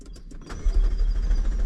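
A McLaren 720S engine cranks and catches, a low rumble swelling after a brief starter whir and holding close and loud to the end.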